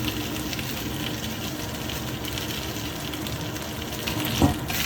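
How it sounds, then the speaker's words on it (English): Marinated chicken pieces hit a hot wok with dry chili and are stir-fried, giving a continuous steady sizzle with faint scraping and stirring, and a brief clatter near the end. "Add the marinated chicken pieces and fry briefly for a few seconds."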